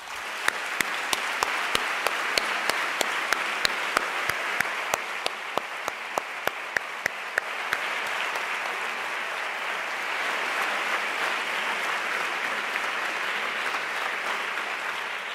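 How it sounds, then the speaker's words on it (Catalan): Sustained applause from a graduation ceremony audience for a social work class, with sharp individual claps standing out early before settling into a steady, dense wash of clapping. "I jo crec que es mereixen un aplaudiment."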